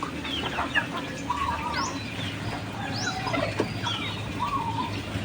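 Backyard chickens, including small chicks and a laying white hen, cluck and chirp in scattered short calls over a steady low outdoor hum, with no talking.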